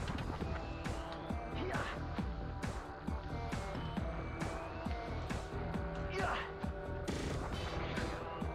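Video game gunfire in Alter Echo, rapid bursts of repeated sharp shots in quick succession throughout, loud and close, with scattered impacts layered over a busy action background.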